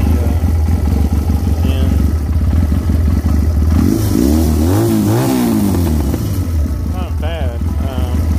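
A Chinese 250cc ATV engine idling after a carburetor cleaning, a steady rough low rumble with a couple of rising and falling revs in the middle, close and loud, with someone talking briefly over it.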